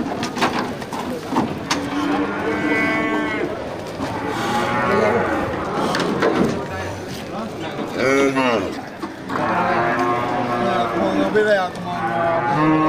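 Aceh cattle being unloaded at the Geurugok animal market moo repeatedly, several long, loud calls rising and falling close by, mixed with people talking and general market bustle.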